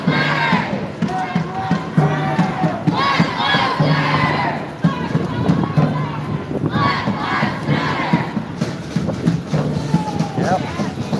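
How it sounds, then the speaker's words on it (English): A large crowd of protesters chants and shouts in a city street, loud rhythmic rising and falling bursts of massed voices that continue throughout, with nearby speech mixed in. "it's definitely still got a crowd"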